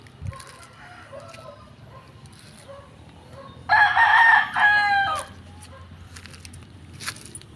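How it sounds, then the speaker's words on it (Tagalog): Backyard chickens in a rural yard: soft scattered clucks give way to a loud, close rooster crow lasting about a second and a half, followed by quieter clucking and distant background sounds. "Yan yung mga manok ko."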